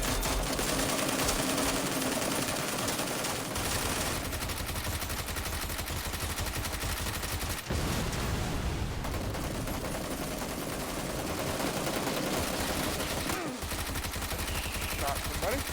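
Rapid bursts of automatic gunfire from the video game PUBG, loud and continuous across the clip with dense layered shots and brief pauses, mixed with game sounds and players talking over it.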